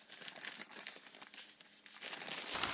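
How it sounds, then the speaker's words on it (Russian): Fine-grained clumping cat litter pouring from a bag into a litter box, a continuous soft granular hiss and crinkle of the plastic bag, quiet and close, with no talking. "Ну, высыпем весь пакет."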